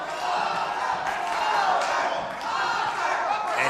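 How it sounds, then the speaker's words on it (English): A boxing arena crowd in the eighth and final round chants a fighter's name, a loud, sustained roar of massed voices swelling and rising in rhythmic waves. "And you hear the crowd shouting, Viedas, Viedas."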